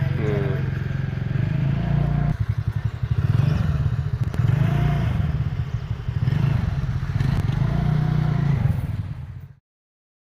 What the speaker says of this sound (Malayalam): സ്കൂട്ടി പഠിക്കലാണ്